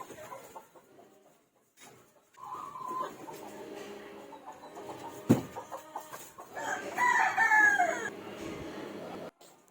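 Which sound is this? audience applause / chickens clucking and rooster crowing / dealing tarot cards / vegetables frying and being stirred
chickens clucking and rooster crowing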